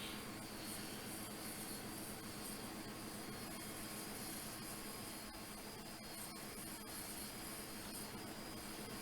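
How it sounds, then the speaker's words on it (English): A Q400 turboprop engine runs steadily in a flight simulator game, a faint, continuous broadband roar and whine that stays even throughout with no talking. "We can go ahead and start the right engine now."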